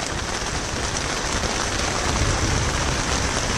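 Rain falls on a tent during a thunderstorm while on a fishing weekend in Aveyron, a dense, loud, close hiss of drops drumming on the fabric without pause.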